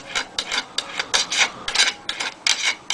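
A metal screwdriver scraped along the magnet of a loudspeaker to magnetize it, making about eight short rasping strokes in a steady back-and-forth rhythm, close and fairly clear with no talking.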